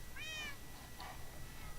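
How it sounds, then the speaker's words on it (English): An ocelot or cat in the Minecraft video game gives a single short, rising meow, clear but quiet, then fades into a low steady background hum with a faint second blip. "I hear a cat."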